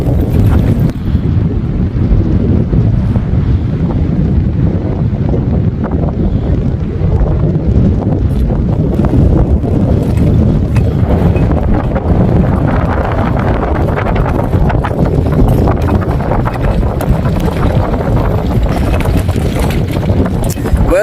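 Strong wind buffets the microphone on a lake bank during catfish bank fishing, a loud, continuous roaring rumble that fills the whole clip with gusty swells.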